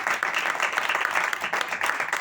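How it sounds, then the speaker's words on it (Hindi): Applause from an audience at a church gathering, steady dense clapping lasting the whole stretch at moderate level with no speech over it. "जोरदार तालियां"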